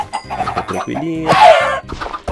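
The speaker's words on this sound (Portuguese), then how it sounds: "Senhora das galinhas, toma aqui, ó, uma sementinha pra vocês." Chickens in the video game Minecraft cluck in a short, close run of choppy calls, with a person talking softly over them.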